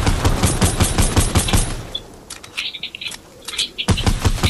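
Rapid automatic gunfire from Fortnite, with dense bursts of shots at the start, sparser shots and impacts in the middle, and a renewed burst at the end, all close and loud.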